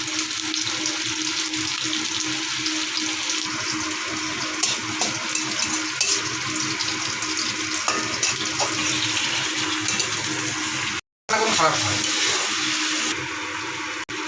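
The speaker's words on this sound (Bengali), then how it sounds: "তেল গরম হয়ে গেছে এবার পেঁয়াজ দিয়ে দিচ্ছি পেঁয়াজ দিয়ে দেওয়া হলো আর গোটা গরম মশলাটা দিয়ে দেওয়া হলো" Chopped onions and whole garam masala fry in hot oil for a chicken masala curry. A steady, close sizzling hiss continues throughout, with one brief break.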